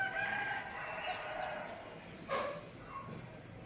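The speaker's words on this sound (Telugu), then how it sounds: "కోళ్ళు కూతలు కొడుతున్నాయి" Roosters crowing on an early, foggy morning near a balcony, one crow fairly clear around the middle against steady background hum and distant birdsong, with no speech.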